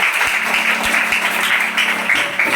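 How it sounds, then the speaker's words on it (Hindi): An audience at a Hindi drama workshop event applauds in a steady, dense wash of clapping that continues throughout, fairly loud and without speech over it. "एक बार जोरदार ताली।"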